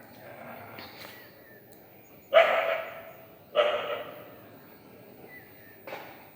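Dogs barking while chasing monkeys: three loud, sharp bark bursts spaced a second or so apart, with quieter yips and movement between them outdoors.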